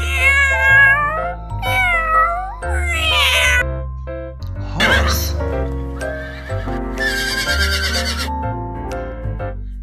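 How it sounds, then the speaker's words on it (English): A cat meows repeatedly in varied, rising and falling calls, mixed with horse neighs and whinnies and faint hoof clip-clop, all close and loud without talk. "Cat."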